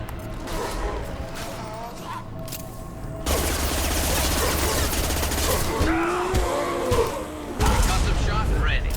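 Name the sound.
concussive shot ability in Mass Effect 2 video game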